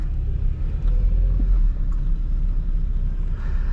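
A 1992 Ford Sierra Sapphire Cosworth, a rally-bred car, drones along on the road with a steady low engine rumble heard from inside the cabin, with no talking.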